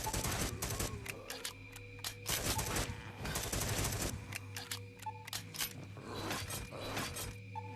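Gatling gun fire in the Deadly Defense video game comes as repeated short rattling bursts with mechanical clatter between them, loud and continuous throughout.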